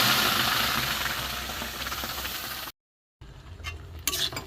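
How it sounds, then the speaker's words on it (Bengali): Boiled matar dal tipped into a hot kadai, giving a broad steady hiss and sizzle for a few seconds, then a brief silence followed by softer stirring with light clinks. "এইটা আমি কড়ার মধ্যে দিয়ে দেবো।"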